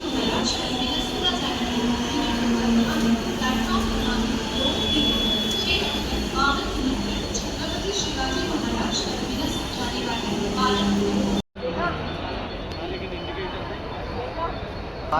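A Mumbai local train rumbles at Ghatkopar railway station, a loud, continuous roar of wheels and carriages with people talking over it, broken by a brief cut before the rumble resumes.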